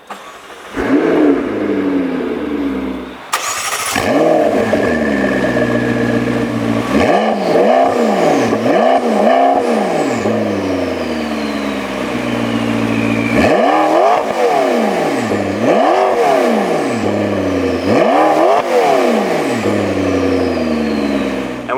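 A 2015 McLaren 650S Spider fires up with a sharp crank and bark, settles into a loud idle, then gives a series of quick throttle blips, each rising and falling in pitch, close and unaccompanied by talk.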